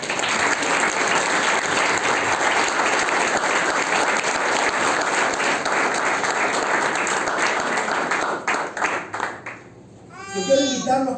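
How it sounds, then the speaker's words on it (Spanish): Church congregation applauding loudly and steadily for around nine seconds, with children's voices and murmuring mixed in as the clapping trails off. "Denle un aplauso al Señor."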